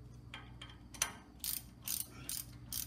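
A ratchet socket wrench clicks as it turns bolts on the rear drum brake of a full-floating axle, with several separate bursts of rapid ratcheting. The short strokes are close and moderately loud, and no one speaks.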